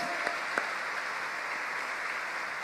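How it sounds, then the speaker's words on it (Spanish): A church congregation applauds in praise during a sermon, with brief, even clapping that fills the room at moderate volume and a couple of sharper claps near the start. "¿Puede dar un aplauso grandote al Señor por ahí?"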